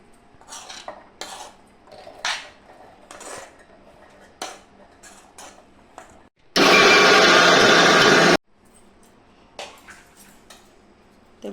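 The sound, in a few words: mixer grinder grinding boiled chana dal into paste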